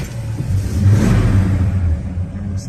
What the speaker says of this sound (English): So we're going to start up our 70 El Camino here for you.